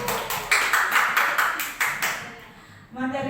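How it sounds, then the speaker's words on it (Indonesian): Teachers at a training session clap in a rhythmic group pattern, a string of evenly spaced, crisp bursts of hands about every half second that stop abruptly, followed by a voice starting to speak. "Tepuk tangan untuk Bapak Ibu."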